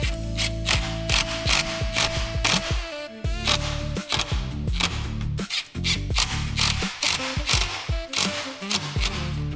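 Screws driven into the chrome front grille of a 2014 Honda CR-V with a power driver, dense rapid ratcheting whirs in repeated loud bursts close by, with brief pauses between screws and no talking.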